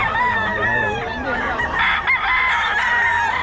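A Sweater breed rooster crows loud and close, one sustained, wavering cock-a-doodle-doo filling the whole stretch, among chickens for sale in Bocaue.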